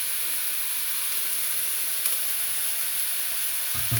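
Beef and bacon lardons for a bourguignon fry in a pot, giving a steady, even sizzling hiss that runs unbroken throughout, with a brief low clunk near the end.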